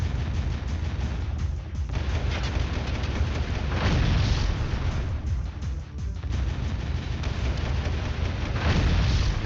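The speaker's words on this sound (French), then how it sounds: "Voilà, ça c'est de l'explosion." Explosions and heavy blasts in the video game Jak 2 during a ship fight, a dense, loud rumbling barrage that keeps going for several seconds with brief dips.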